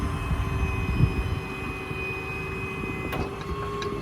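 A 2014 Ford F550 mechanics service truck with a utility crane and compressor, its crane rotating clockwise: a steady mechanical whine with hydraulic drone and tonal hum, close and continuous, with a brief click near the end.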